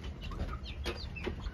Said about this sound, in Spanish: Acá tengo pollitos criollos